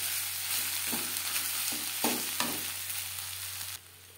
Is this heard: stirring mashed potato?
yes